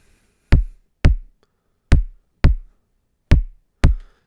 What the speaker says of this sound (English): here is a kick I made